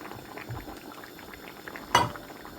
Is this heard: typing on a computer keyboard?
no